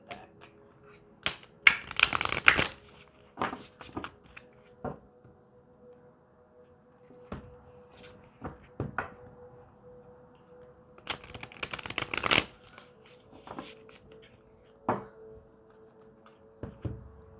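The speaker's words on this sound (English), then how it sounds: "I'm going to shuffle again and then split the deck." A deck of tarot cards is shuffled by hand in a quiet room, bursts of riffling and tapping clicks separated by pauses, close and fairly faint, with no talking.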